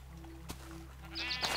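Blocky sheep in the video game Minecraft bleat in short repeated calls, a few evenly spaced bleats over a steady low game hum, with a brief click partway through.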